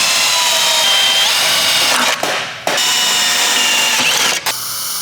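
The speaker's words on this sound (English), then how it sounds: "We're gonna drill a hole next to it and run a zip tie through it." Power drill boring a hole through the steel chassis of a Nissan S14 Silvia, a loud steady whine that cuts out briefly twice and restarts, with no talk.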